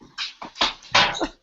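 Dog whimpering and yipping in several short, high, whiny bursts across a second and a half, close and fairly loud, with no other sound around them.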